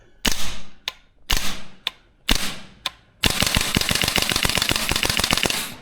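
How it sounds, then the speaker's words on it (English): A VFC URGI V3 gas blowback airsoft rifle fires four separate semi-auto shots, each a loud crack with a metallic clack, then a rapid string of quick shots close together, all close and without talk. "See how quick I'll fire semi-auto."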